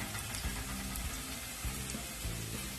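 Cumin seeds sizzle steadily in hot oil in a pan while cooking zucchini sabzi, a continuous close frying hiss with faint stirring pulses throughout.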